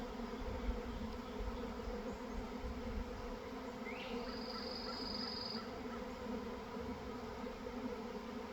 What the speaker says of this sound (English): Oh, look, that's all bees. You can hear them.